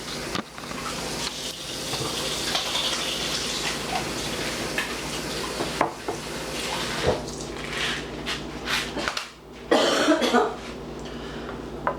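Kitchen tap water runs steadily while hands are washed during cake frosting preparation, a continuous close hiss broken by a cough and some small clatter near the end.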